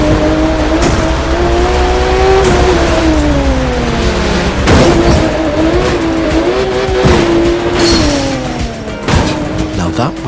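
Cars race in the video game The Crew 2, with loud, sustained engine drones that rise and fall in pitch as they rev. Sharp tire squeals and impacts punctuate the run, and a narrator talks over it.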